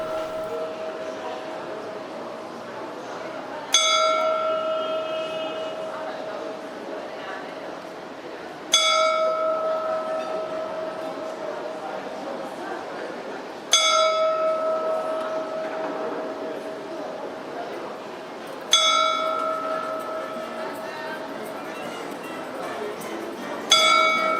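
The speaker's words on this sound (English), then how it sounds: "an angel comes out of a door near the top of the tower and strikes the bell with a number of rings for the hour" In Tbilisi, Georgia, an angel figure strikes a clock tower bell on the hour: five loud, clear strikes spaced about five seconds apart, each ringing out and slowly decaying over a constant background murmur.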